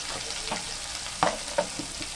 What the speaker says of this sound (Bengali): আলুটা 5 মিনিট ভেজে নিয়েছি। এবার তো হলুদ দিচ্ছি, একটুখানি ধনের গুঁড়ো দিলাম